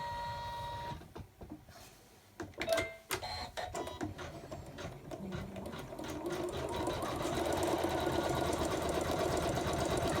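An embroidery machine stitching out a Gingerbread Boy tree hanger starts after a brief pause, then runs as a rapid, steady mechanical chatter that grows louder and denser toward the end.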